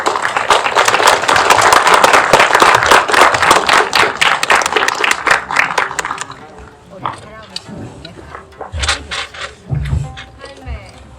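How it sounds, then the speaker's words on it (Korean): An audience at a Korean film talk event claps to welcome the director and a film critic, a dense burst of applause lasting several seconds before thinning into scattered claps, then talking and laughter. "박수 한번 부탁드리겠습니다"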